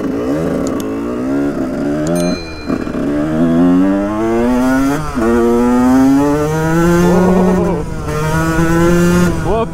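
A Honda 125 CR two-stroke motocross bike revs hard up and down in repeated rising wails at close range, its crackling engine note climbing and dropping through several bursts.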